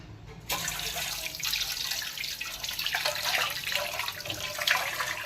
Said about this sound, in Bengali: হাত ধুতে চলে এসছি আমি